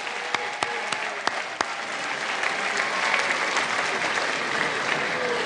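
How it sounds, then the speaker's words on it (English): Sustained audience applause at a 2013 Queensborough Community College commencement ceremony, a dense wash of many hands clapping with a few sharper claps standing out early, steady and loud throughout with no talk. "Let us give a big round of applause to all of the people who have helped you on your journey"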